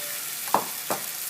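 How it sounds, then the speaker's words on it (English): Salt fish fritters, Jamaican fish cakes, sizzling in a pot of hot oil, with two short bursts of spluttering as batter hits the oil over a steady background hiss, close and moderately loud. "I'm gonna fry this whole batch."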